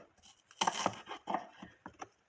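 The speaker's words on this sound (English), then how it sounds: "start by cutting strips of celery, and you're gonna chop them up" Knife chopping celery strips on a cutting board, a quick uneven run of about eight crisp close taps, the first few loudest.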